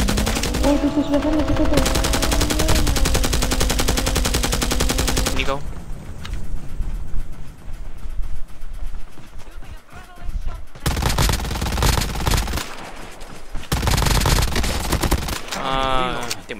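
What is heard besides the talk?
gunfire in video game Call of Duty Mobile battle royale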